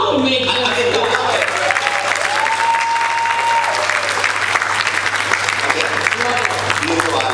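Audience applause at an African Voice anniversary celebration, steady and sustained through the whole stretch, with voices talking over the clapping.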